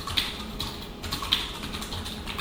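Quick, light clicking keystrokes on a computer keyboard patter close by in an irregular run of taps, steady and moderately quiet, with no voice over them.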